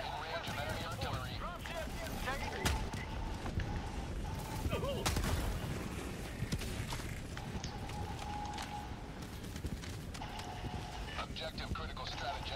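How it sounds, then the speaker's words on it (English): Heavy, continuous combat din from a bug-fighting video game, with booming enemy artillery and mortar blasts and gunfire layered over dense background noise, while voices talk throughout. "Warning, you are in range of enemy artillery."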